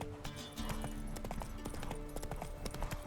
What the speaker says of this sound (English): call my horsey, and let's go, Roach